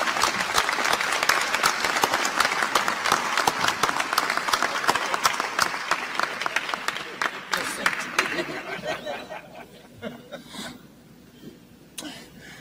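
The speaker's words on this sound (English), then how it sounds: "Let's give a round of applause." An audience at a law school commencement ceremony bursts into loud, sustained applause that gradually thins into scattered claps and coughs, with some talk underneath as it fades.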